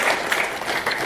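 A short burst of audience applause at a talk on building a passionate community: dense, steady clapping from a crowd, fairly loud and continuous.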